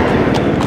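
Horse hooves clip-clop in a quick, steady rhythm at a traditional Friday horse gathering in the Chhachh area, the close, loud hoofbeats filling the short moment with no voices over them.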